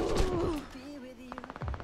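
Uzi Pro submachine gun fire in a video game comes in a quick burst of rapid shots near the end, after a brief stretch of other game sounds.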